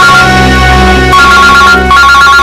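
A loud electronic phone ringtone plays continuously, a bright repeating melodic tone with no voices over it.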